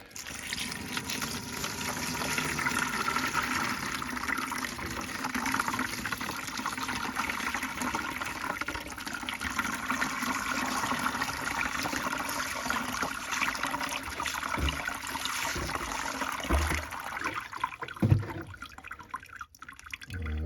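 Running water rinses tumbled peach and green aventurine cabochons, a steady, close splashing gush that carries on throughout with a few louder spatters near the end, and no voices.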